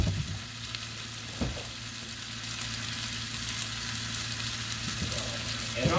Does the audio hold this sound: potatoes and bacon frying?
yes